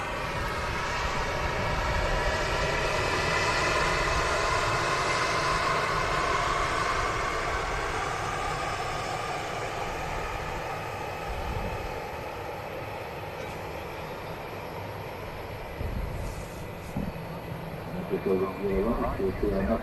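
A Ryanair Boeing 737 taxis at Manchester Airport, its jet engines giving a steady broad roar that slowly fades as it moves past, with someone speaking over it.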